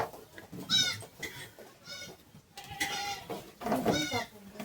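Several bleats from recently shorn sheep, repeated at intervals and fairly close, with low background murmur between calls, in an old tribal village beneath a cliff.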